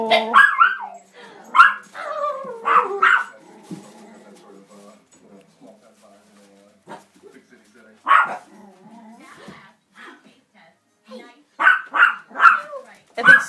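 A Shiba Inu puppy gives sharp, high yips and barks in bursts, with quiet pauses between and people talking around it.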